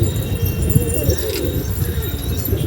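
Pigeons coo softly from a building perch in a low, wavering murmur, set against steady outdoor background noise with faint handling sounds.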